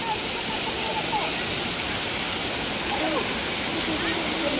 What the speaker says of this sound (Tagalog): ito yung Mimbalot Falls guys oh